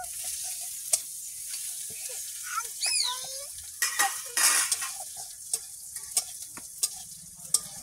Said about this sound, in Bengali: আলুগুলো দিয়ে দেবো। ভেজে নেব।